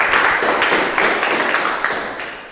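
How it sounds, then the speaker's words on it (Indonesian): Students of class 10-1 at MAN 3 Ciamis clap together in their classroom, a dense, close round of rapid hand claps that carries on steadily and slowly fades toward the end. "Tepuk tangan buat kalian semua."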